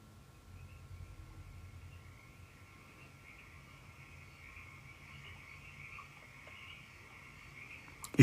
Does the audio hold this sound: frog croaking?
yes